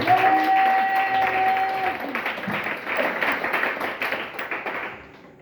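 A church congregation claps in a dense, rapid patter that carries a sustained voice or tone at first, then thins and fades out toward the end.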